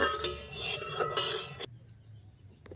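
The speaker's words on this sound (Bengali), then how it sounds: "সর্ষের তেল দিলাম চারিদিকে ভালো করে লাগিয়ে নেবো তেলটা" Mustard oil is swirled around a hot wok, a short bright hiss with metallic scraping and clinks that cuts off abruptly, leaving quiet.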